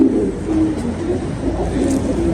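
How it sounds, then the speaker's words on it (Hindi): A racing pigeon coos softly in a loft, a low murmuring call repeating over a steady background hum, no voices. "बड़ा शानदार कबूतर है जी, ये 11 नंबर कबूतर है हमारे"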